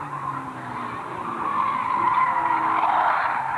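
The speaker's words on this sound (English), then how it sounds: "Bill Aldred is spun round big time. He's done a 360" Old stock race car skidding and spinning a full 360 at an oval meeting, a sustained tyre squeal over engine roar that grows louder and harsher as the spin goes on.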